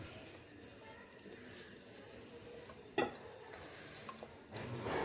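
Pitha cakes fry in a pan with a soft, low sizzle close by, then a sharp utensil clink at the midpoint and a few lighter taps before the frying swells again.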